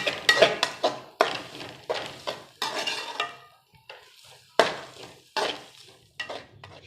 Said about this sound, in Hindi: घी के साथ अब इसको यहाँ पे भूनना हमने।